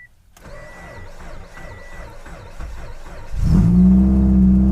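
A car with a broken exhaust cold-starts: a rapid mechanical clatter for a few seconds, then the engine catches and settles into a loud, rough, steady idle.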